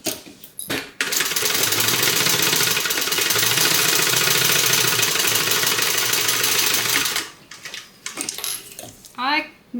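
A hand-cranked sewing machine stitches a crossbody bag, making a close, continuous mechanical clatter for about six seconds, with short bursts and quieter handling before and after.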